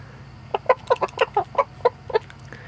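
A farm rooster clucks in a quick run of about a dozen short, loud, close calls with brief gaps, then falls quiet.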